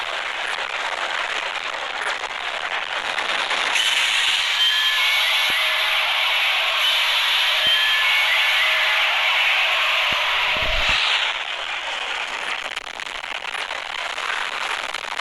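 Monster's beam attack striking the player in the Minecraft Kaiju Craft mod, a sustained crackling, hissing energy stream that holds loudly for several seconds before cutting off.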